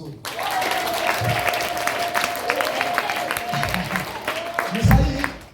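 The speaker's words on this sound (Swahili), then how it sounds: "Basi tumpige Yesu makofi mazuri." A church congregation at Sunday service applauding, a sustained wash of clapping from many hands with a held tone and brief voices rising over it near the end.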